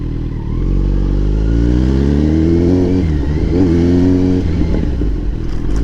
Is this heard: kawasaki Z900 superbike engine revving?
yes